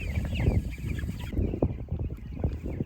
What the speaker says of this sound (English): It's a lovely sight to see spring chickens back on pasture.